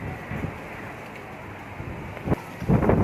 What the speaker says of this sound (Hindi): बहुत तेज़ हवा है